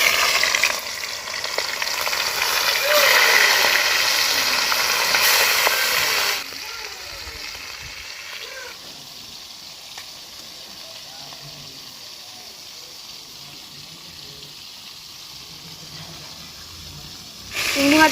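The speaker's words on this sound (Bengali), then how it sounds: "এই যে আমি মাছগুলোকে ভেজে নেব।" Prawns frying in hot oil, a loud close sizzle and spatter for several seconds that drops to a faint hiss, then swells again at the end; a voice is faintly present.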